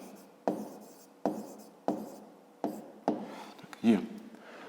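A pen writing an answer on paper for a fifth-grade maths exercise, six short scratchy strokes in a steady rhythm, close and fairly quiet.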